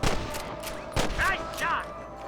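Gunshots in the Red Dead Redemption video game, two loud sharp cracks about a second apart, each followed by ringing echoes and scattered ricochet-like whistles, with no speech.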